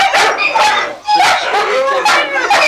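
Puppies in kennels bark and yip in loud, overlapping bursts, several in quick succession, with a voice speaking over them.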